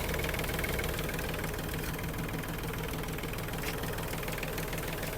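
The small diesel engine of an Iseki TG-31 Japanese mini tractor idles steadily up close, a rough, even knocking rumble with no change in pace.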